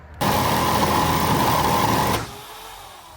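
A jigsaw cutting a bunk window opening in a van wall: a loud, close, steady buzzing run of about two seconds that stops abruptly, leaving quiet room noise behind.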